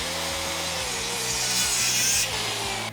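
A saw cuts scrap wood guided along a clamped straight edge, with quick, regular back-and-forth rasping strokes, close and fairly loud, alone without talk.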